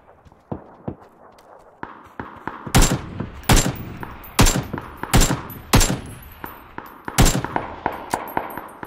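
Gunfire in the battle royale game PUBG: a string of sharp, loud shots in an irregular rhythm, with quieter clicks and footstep-like taps between the bursts.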